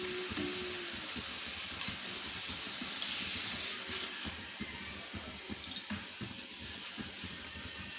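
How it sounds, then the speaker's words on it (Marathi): Sweet modaks filled with sugar and coconut fry in hot oil, a steady close sizzle and bubbling with occasional clinks and stirring, with no talk. "आता आपण हे मोदक छान तळून घेणार आहोत."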